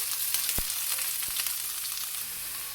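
Chopped onions hitting hot oil in a pan, a steady bright sizzle with a couple of sharp ticks and pops, close and continuous with no talk.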